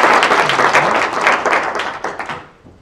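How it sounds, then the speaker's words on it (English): An audience at a Python programming meetup gives a warm round of applause, dense clapping, fairly close and loud, that holds steady and then tapers off toward the end. "Let's all give a warm round of applause."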